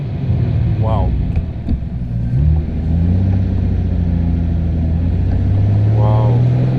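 A Morgan Roadster's Ford 3.7-litre V6 cranks and catches, then holds a deep, steady idle close by, with someone speaking and exclaiming over it.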